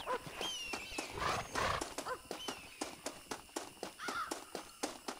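In Red Dead Redemption, a horse-drawn cart's hooves clip-clop in a steady, even rhythm close by, with a horse whinnying and creaking cart noises early on.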